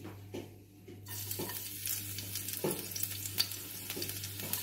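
Garlic shallow-frying in a tablespoon of oil in a nonstick wok, a soft hiss that swells into steady close sizzling with repeated stirring scrapes of a utensil against the pan.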